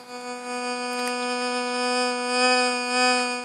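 A constant buzzing electronic threshold tone from a metal detector turned up high, rich in harmonics, holding steady with a slight warble throughout.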